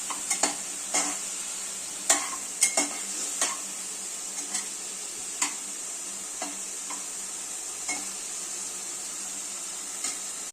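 Green turkey berries and onion sautéing in a pan, a soft continuous sizzle punctuated by irregular metallic scrapes and clinks of a spoon stirring against the pan, close up with no talk.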